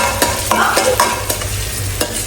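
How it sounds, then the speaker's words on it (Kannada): Homemade ginger garlic paste frying in a pan, a loud, close hiss of sizzling oil with a few quick stirring scrapes, heard alone without talk. "ಸೊ ಎಲ್ಲರ ಶೆಫ್ವನ್ನು ಇದು ಆದ ತಕ್ಷಣ ನಾನು ಇದನ್ನು ಫ್ರೈ ಮಾಡ್ತಾ ಇದ್ದೇನೆ."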